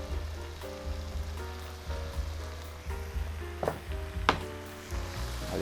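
Tomatoes hit a hot pan for seafood capcay, and a steady sizzle of frying runs throughout, with a few sharp clinks and crackles over a low kitchen hum.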